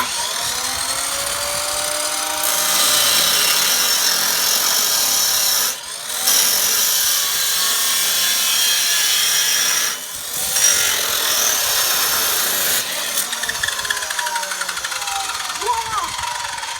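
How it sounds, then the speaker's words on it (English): A power saw cuts through a 40-inch length of metal C-channel for a garlic and onion planter, a loud sustained grinding whine with two short breaks, close by. "here we're going to cut ourselves a 40-inch piece of C-channel"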